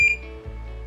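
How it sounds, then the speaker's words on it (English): A biometric access reader beeps as a key fob is scanned, one bright electronic tone at the start followed by a lower hum, close and clear with no talking. "You put it down, it'll beep."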